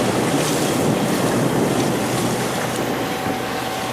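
Sailboat motoring under engine at 2,000 RPM with land on the horizon, a steady broadband drone of engine and hull rushing through water, mixed with constant wind buffeting the microphone.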